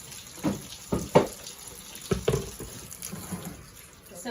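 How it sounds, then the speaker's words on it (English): Pickles are rinsed under a running kitchen tap to wash off seeds and pickling spice. The water splashes in several close bursts over a soft steady stream, with no talking. "I'm just washing to get all the seeds, the pickling spice off."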